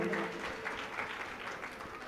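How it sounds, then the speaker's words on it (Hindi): Audience applause at a village foundation-stone ceremony during a Jain nun's sermon, a dense, steady wash of many hands clapping for about two seconds at fairly even strength. "एक बार उनके लिए जोरदार तालियां बजाइए"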